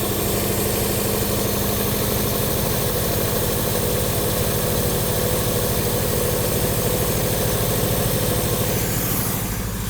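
A 1955 Nash Metropolitan, a barn find, idles steadily after starting, its engine running with an even, low rumbling pulse that stays loud and constant throughout with no talking.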